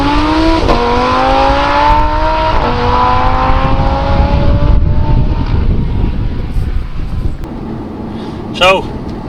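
An Audi R8 V10 Spyder S-tronic sports car accelerates hard with its engine note climbing through two quick upshifts, then backs off into crackling downshifts. The engine is loud and close, with a voice talking over it.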